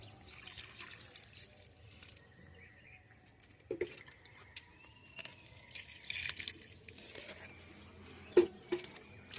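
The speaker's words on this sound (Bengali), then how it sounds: "এখন আমি ফুল পচানো জল এই গাছের গোড়ায় দিয়ে দেবো" Fermented flower water poured onto the base of an eggplant plant in a garden, a faint soft trickle and patter with a few louder splashes near the end.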